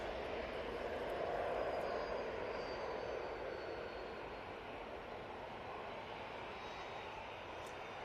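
An easyJet Airbus A320-200 takes off from Manchester Airport, a steady broadband jet roar holding loud and even throughout, fading only slightly toward the end.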